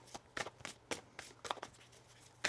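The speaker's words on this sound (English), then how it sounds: "One more shuffle." Tarot cards are shuffled in quick, soft riffling bursts, about eight short flurries at an uneven rhythm, quiet and close.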